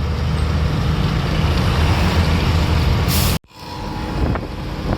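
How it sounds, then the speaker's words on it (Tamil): Steady broadband roar of heavy road traffic with trucks passing close, then an abrupt cut and the rumble builds again. "எவ்வளோ வண்டிங்க போகுது டிராஃபிக்கு."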